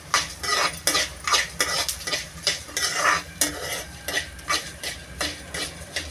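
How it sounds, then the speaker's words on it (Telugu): Coriander seeds, fenugreek and black pepper fry in leftover oil as a utensil stirs them, producing a rhythmic series of close scraping sweeps over a soft sizzle, repeating roughly twice a second. "ఎనిమిరకాయలు వేపుకోగా మిగిలిన నూనెలో ఈ ధనియాలు మెంతులు మిరియాలు ఈ మూడు వేసుకుని వేపేసుకోవాలండి"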